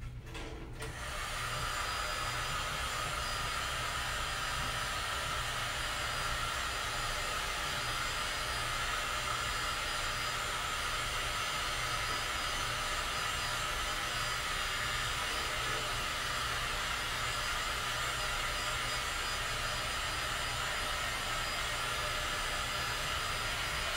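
Heat blower running steadily at close range to warm and stretch a shoe, a continuous loud whooshing hum that starts abruptly and holds an even level throughout without pauses.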